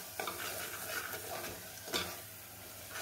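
Chili powder and turmeric stirred in hot oil for a vegetable kurma give a steady, soft sizzle with light scraping stirs against the pan, heard close.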